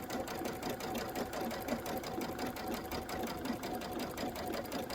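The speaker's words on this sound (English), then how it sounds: "I'm going to sew right off, just about 1/4 inch." A sewing machine stitches quilt pinwheel pieces for a Kimberbell Candy Corn quilt, a fast, steady mechanical chatter of the needle running close and loud, with no talking.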